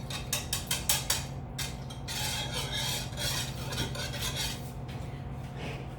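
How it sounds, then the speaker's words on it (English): A small whisk stirs canned coconut milk for Thai coconut soup, starting with a quick run of sharp metal taps against the bowl, then settling into steady scraping and sloshing, close and fairly quiet with no talk. "Cute little whisk."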